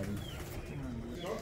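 A golden pigeon, number 19 in a fancier's loft, gives a soft, low coo in a brief moment while people talk nearby.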